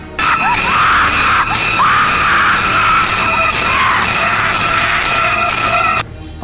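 A woman's scream as a ghost story sound effect: a loud, shrill, sustained wail lasting about six seconds, then cut off abruptly.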